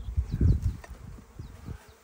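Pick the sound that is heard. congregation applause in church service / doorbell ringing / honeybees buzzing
honeybees buzzing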